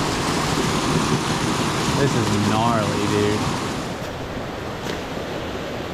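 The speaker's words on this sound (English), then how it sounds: "There's another waterfall right there I might go look at real quick" A steep waterfall beside a trout stream in Maine gives a steady, loud, broadband rush throughout, with someone talking briefly over it.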